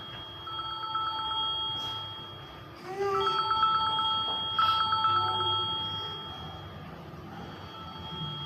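An old-style telephone bell rings in two clear trilling bursts, moderately close and fairly loud against a quiet room, with no talking over it.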